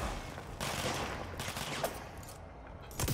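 Enemy gunfire in the video game Control, a dense fusillade of rapid shots from the left, fairly loud and continuous throughout with brief louder bursts near the end.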